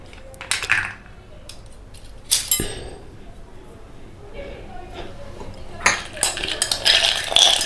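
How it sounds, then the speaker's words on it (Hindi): Ice clinks and rattles into a container for a strawberry smoothie of milk and banana, in a few sharp bursts with quiet gaps between them. "पहले आइस डालते हैं इसमें"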